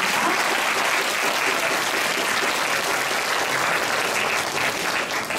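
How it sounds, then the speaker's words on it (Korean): Audience applauding both high school teams at the final of a national reading debate and essay competition: loud, dense, continuous clapping sustained from start to finish, no speech over it. "다시 한번 박수 부탁드립니다"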